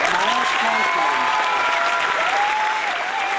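A room full of people claps and cheers in a sustained round of applause after a film screening, steady and loud throughout, with a few faint voices and whistles mixed into the clapping.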